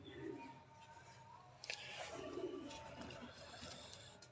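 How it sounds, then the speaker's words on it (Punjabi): A golden Heera Lal breeder pigeon gives low, throaty coos in two short bursts, close by, over a quiet room tone with faint rustling in between. "ਇਹ ਵੀ ਬਰੀਡਰ ਕਬੂਤਰ ਹੈ ਬੇਸਿਕਲੀ। ਹੀਰਾ ਲਾਲ ਵੀ ਇਹਨਾਂ ਨੂੰ ਕਹਿੰਦੇ ਨੇ, ਗੋਲਡਨ ਕਬੂਤਰ"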